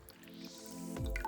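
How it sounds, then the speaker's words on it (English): Excess water drips and squishes off softened jelly sheets being squeezed for a lemon and honey jelly, a faint, brief wet patter ending in a soft splash. "I'm gonna let the extra water go out."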